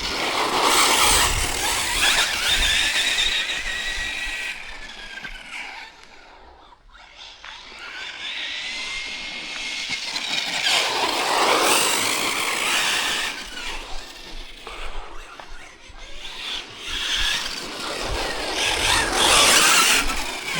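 A Hobao TT2.0 Pro electric RC truggy driving and cornering, its motor whining in high, shifting tones that swell as it passes close, drop away briefly, then surge back loud.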